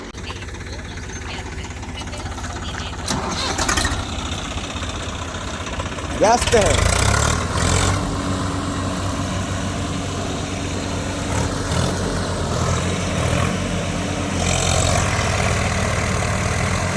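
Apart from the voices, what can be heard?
Swaraj 744 FE 4WD tractor engine running in deep mud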